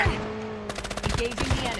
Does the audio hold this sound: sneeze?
no